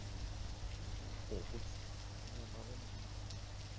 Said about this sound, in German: Oh, es regnet schon wieder rein.